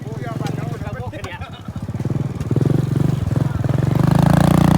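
A farm tractor engine chugs and putters with a pulsing beat, nearby and fairly loud, getting stronger toward the end, while people talk over it.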